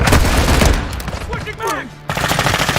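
Loud, rapid bursts of automatic gunfire crackle in a video game match. A short lull brings a brief voice before the firing resumes.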